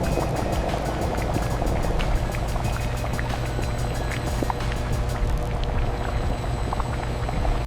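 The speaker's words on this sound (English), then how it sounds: "Under a vacuum, the water boils off at low temperatures, thickening the liquid into a supersaturated syrup." Lime juice boiling under vacuum in a factory evaporator, a steady loud churning and bubbling roar with continuous mechanical hum and crackle, unbroken throughout.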